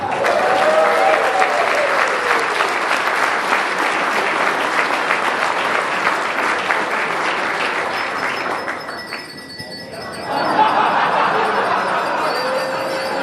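Sustained loud applause fills a conference hall at an awards and obituaries session, steady dense clapping with a brief dip near the end before swelling again.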